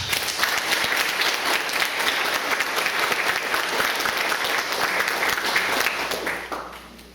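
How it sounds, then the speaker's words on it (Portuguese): A church congregation applauds after a Bible reading, a loud, sustained wash of clapping from a large crowd that stays even for several seconds, then quickly dies away near the end. "Vamos aplaudir essa palavra de Deus."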